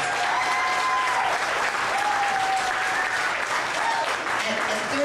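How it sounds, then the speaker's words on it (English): An audience at a singing contest applauds a young contestant, dense, steady clapping from a sizable crowd that holds evenly throughout, with a few faint whistles and voices mixed in. "we should at least give them an applause for being so young and at least trying to"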